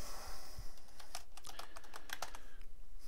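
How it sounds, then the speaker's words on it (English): Computer keyboard keys clatter in quick irregular bursts, a few louder taps standing out over a steady low background hiss; no voices. "well, just start typing it in again."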